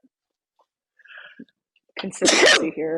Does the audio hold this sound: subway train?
no